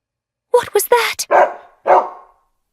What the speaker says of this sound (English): Oh dear, what a big dog!